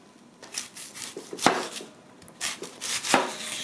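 A knife chops a large onion into small cubes on a cutting board during home cooking, giving several sharp, close taps spread unevenly, with two heavier strikes standing out.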